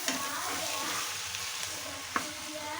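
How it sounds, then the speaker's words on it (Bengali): Cabbage stew with hilsa fish head being stirred in a pan, a quiet, continuous frying hiss with faint scrapes and one brief clack of a utensil, heard close with no speech. "এখন আবারও ভালো করে নেড়ে চেড়ে 1 মিনিট রান্না করে নেব।"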